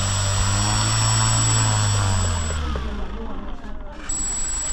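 Homemade drone with its propellers spinning in flight, a loud steady buzzing whine that holds for a few seconds, then wavers and drops briefly before returning.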